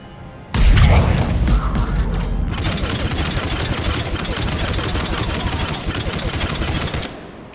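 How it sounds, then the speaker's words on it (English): A generator runs in a video game, a loud mechanical engine rumble that starts abruptly and continues with a rattling, gunfire-like churn for several seconds before fading out. "Oh, that's just the generator."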